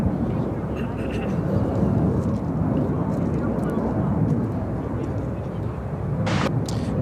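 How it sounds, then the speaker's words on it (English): A CRJ200 LR regional jet in retro livery takes off from Chicago O'Hare, a steady broad jet roar holding at constant level throughout, with voices faintly present underneath. "flight 6078, taking off to Wichita on the CRJ200 LR in the retro livery."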